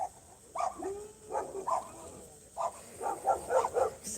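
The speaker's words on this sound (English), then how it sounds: "Somebody brought their tiny dog over here." Tiny dog barking in a series of short, sharp, frisky yips and barks, close by and fairly loud, irregularly spaced with a brief whine between them.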